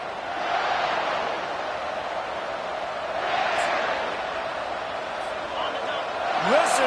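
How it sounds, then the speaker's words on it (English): Steady crowd roar fills a football video game stadium, a dense continuous wash of cheering that swells in places, with faint whistle-like tones near the end. "Listen to this crowd just shaking the girders of this place, trying to help their defense."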